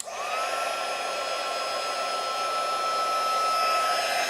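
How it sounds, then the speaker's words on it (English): A heat gun used for papercraft embossing switches on and warms up, a loud steady blowing whine that rises at the start and then holds, close by, with no talk. "it's going to get loud for a minute because I'm going to turn on my my heat gun"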